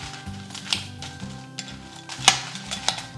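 Ginger, chilies and garlic being mixed with vinegar in a bowl for a prawn pickle, a close sequence of soft scraping and clinking spoon-on-bowl sounds with a few sharper taps.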